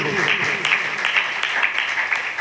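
An audience at a church youth revival meeting claps in a steady, dense round of applause, loud and close, with a voice faintly present underneath.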